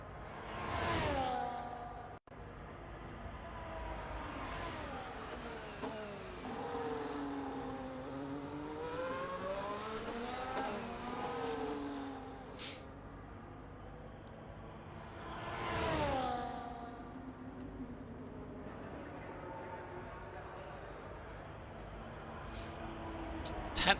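Ferrari race car on a qualifying lap at Monza in a racing video game, its engine rising and falling through gear changes with a sharp whooshing pass near the middle and steady high-pitched drone throughout.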